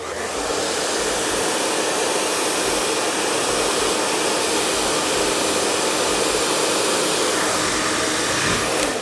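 A hair dryer blowing steadily and loudly at close range during a sleek, shiny salon blow dry, with a continuous airy roar that holds for the whole stretch.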